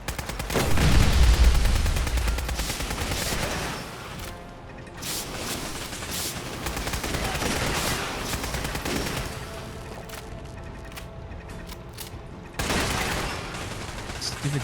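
Turrets open fire in Fallout 4's Nuka World Galactic Zone, loud rapid automatic bursts with heavy impacts rolling on and off in waves, the gunfire dense at the start and returning in strong bursts later.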